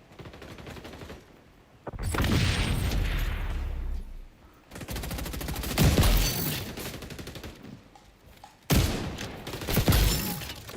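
Shotgun blasts from a Remington M870 in the video game XDefiant, loud bursts of gunfire in three clusters separated by brief lulls, with sharp impacts and rapid follow-up shots.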